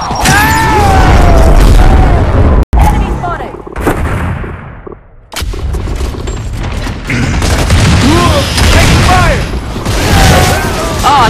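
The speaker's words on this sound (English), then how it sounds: "incoming frag!" A frag grenade explodes in a video game, a heavy boom within a loud, chaotic soundscape of repeated gunfire, booming blasts and clanking mechanisms, with a voice briefly heard in the mix.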